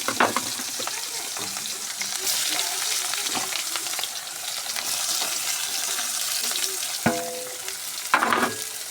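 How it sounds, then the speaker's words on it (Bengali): Sliced onions fry with cumin seeds in hot oil, the base for a Bihari-style tilapia fish curry. A steady, close sizzle runs throughout, with occasional scraping stirs and louder crackles near the end, and no talking. "তেলের মধ্যে জিরে ফেলে দিয়েছি, এবার পেঁয়াজটা দিয়ে একসঙ্গে ভেজে নেবো একটু লাল লাল করে।"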